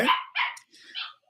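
A dog barks indoors: three quick, sharp barks close by, the last one a little higher and thinner.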